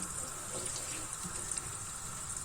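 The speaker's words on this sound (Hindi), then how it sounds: "थोड़ा सा इसमें मैं पानी ऐड करूंगी" Water is poured into a cooking pot to start sugar syrup for zarda sweet rice, a steady, faint splashing hiss with no voices.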